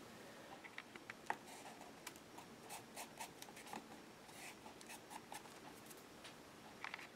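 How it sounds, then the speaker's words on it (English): A pen writes a word on a piece of brown paper bag, with quick scratchy strokes and small taps repeating unevenly for several seconds, close and quiet, with no talk. "I'm going to write closed on here."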